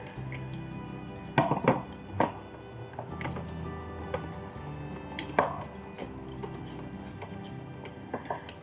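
Garlic being crushed for a butternut squash and mushroom soup, quiet crunching and squishing taps at an uneven pace, faint and close against a soft kitchen background.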